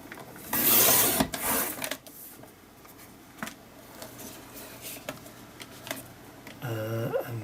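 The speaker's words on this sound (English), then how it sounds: "So I'm going to cut that into 10cm strips and just see how many I get out." Scissors or a trimmer cut card paper into 10 cm strips for mixed media thank-you cards, with a loud crisp slicing burst near the start followed by softer scraping and rustling handling noises close by.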